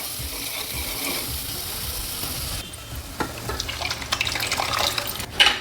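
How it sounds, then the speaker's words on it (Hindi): Boiled lentils are poured into a pan of fried onion-tomato paste for Rajasthani dal. A steady background hiss gives way to a wet, sloshing pour with soft splattering and sizzling that grows louder toward the end. "अब डाल देंगे इसमें उबली हुई दाल।"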